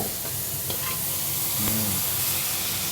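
A filling for wrapping in rice noodle sheets is stir-fried in a pan, giving a steady close sizzle with intermittent spatula scrapes and clicks, and no voices.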